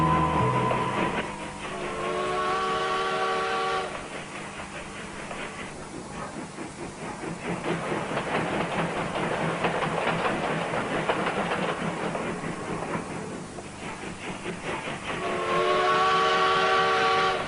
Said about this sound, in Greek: Μια παλιά ατμομηχανή τραβούσε ένα βαγόνι και τους ελάχιστους επιβάτες.